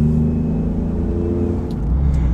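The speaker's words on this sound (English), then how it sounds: "when you actually go to accelerate in this vehicle, things change a little bit because those turbos get working" A turbocharged Shelby Super Raptor pickup truck engine rumbles and builds steadily as it accelerates, a deep continuous drone close by with no talking.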